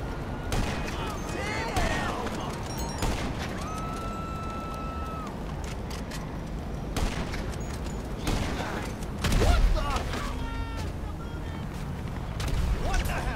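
Gunfire in a GTA 5 Online gunfight, with bursts of shots and scattered single cracks mixed with game effects and a louder thump partway through, all running under ongoing talk.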